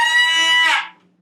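Cello harmonic bowed ponticello without vibrato gives a steady, bright, edgy tone that holds for under a second and then stops quickly, close and alone.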